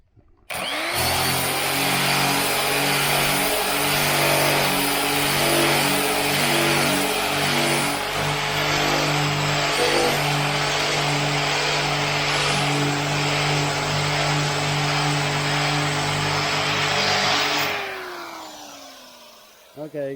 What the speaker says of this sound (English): I got a grinding disc on the grinder here.